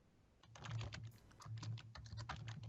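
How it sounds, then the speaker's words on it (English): Keys clattering on a computer keyboard during an online tabletop role-playing session, as someone fills in a character sheet. The fast, irregular clicks are faint and come in two short runs, with no talking. "I was just typing into my character sheet to write this stuff"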